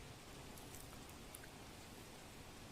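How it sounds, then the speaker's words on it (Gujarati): Steady, dense hiss of heavy evening rain falling continuously in Kadi, Mahesana, with no pauses or voices. "મોડી સાંજે ધોધમાર વરસાદ વરસ્યો હતો"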